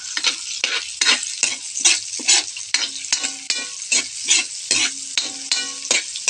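Vegetables and garlic sautéing in a pan for lumpiang gulay, rhythmic bursts of loud hissing and scraping as the spatula tosses them, repeating about every half second.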